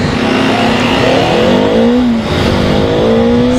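A Bajaj Dominar and a Honda CBR motorcycle accelerate in a head-on drag race, a loud, close engine roar whose pitch climbs through gears in rising sweeps, with no speech.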